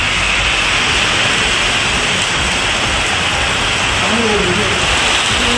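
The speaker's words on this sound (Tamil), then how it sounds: "மூஞ்சிக்கல், ஆனந்தகிரி, உக்கார்த்தே நகர், சீனிவாசபுரம், பெருமாள்மலை உள்ளிட்ட பகுதிகளில் கனமழை பெய்தது." Heavy rain pours down in hill areas around Perumalmalai and Anandagiri, a loud, unbroken hiss of falling water that stays constant from start to finish.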